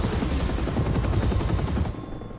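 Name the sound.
helicopter in video game Spider-Man 2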